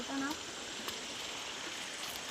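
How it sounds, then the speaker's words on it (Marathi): A village river flows past in a steady, even rush of water, close and constant, with a brief voice tone at the very start. "ही अशी नदी वाहत आहे"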